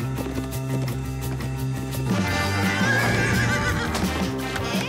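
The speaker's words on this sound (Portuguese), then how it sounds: "Amigos, esta é a minha égua, Tawny." Cartoon mare whinnying in an animated Barbie horse-riding scene, a bright neigh over a bed of music with a light clip-clop of hooves.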